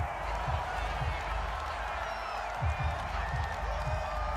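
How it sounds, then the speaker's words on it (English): A stadium crowd in the Madden NFL 22 football video game roars steadily in disapproval after a penalty call, a dense sustained wash of voices with occasional louder swells. "this crowd does not like that call"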